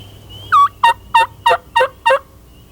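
Six sharp, evenly spaced clucks from a mouth call imitate a hen turkey, loud and close against a quiet outdoor background.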